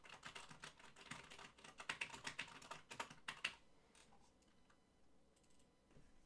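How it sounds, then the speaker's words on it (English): Quick, clattering keystrokes on a computer keyboard for about three and a half seconds, close and fairly loud, then trailing off into quiet room tone. "go back to my other keyboard, and then I have to type something up"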